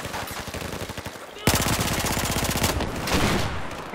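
Automatic gunfire in Battlefield 4, rapid loud bursts of machine-gun fire that swell into a dense, sustained volley, with a voice speaking underneath.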